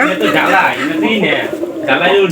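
Pigeons inside a netted enclosure coo in soft repeated bursts up close, overlapping calls with brief gaps, while a person talks nearby.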